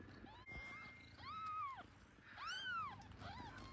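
Newborn kittens from a litter of five give two thin, rising-and-falling mews about a second apart. The cries are faint against a low background hum.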